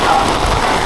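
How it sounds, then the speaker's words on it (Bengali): Heavy rain pours down at Rishra railway station in a dense, steady hiss that is loud and close, with no voices. "সে কি বৃষ্টি রে ভাই।"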